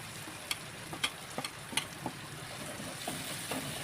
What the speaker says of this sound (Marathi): सर्व मसाले तेलामध्ये व्यवस्थित फ्राय करून घ्यायचे